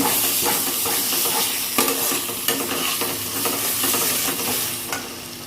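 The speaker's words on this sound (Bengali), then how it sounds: "এটা দিয়ে একটু ভালো মতন আবার কষিয়ে নেব" Masala with kasuri methi for matar paneer is stir-fried in a pan: a loud, continuous sizzle with frequent scraping strokes of a spatula against the metal, heard close up and with no talking.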